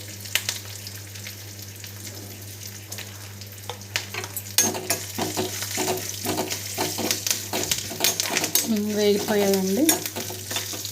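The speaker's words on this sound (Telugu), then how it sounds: "కరివేపాకు, వేగాయండి. కొంచెం పసుపు వేసుకుందాం లైట్గా" Curry leaves and a pinch of turmeric frying in a pan for semiya lemon pulihora, a low hiss rising into crackling sizzle and stirring scrapes, with a steady hum underneath and a brief voice near the end.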